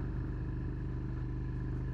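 A first motorcycle's engine drones steadily under way, a dense low rumble with even harmonics running unbroken and loud throughout, with no voices.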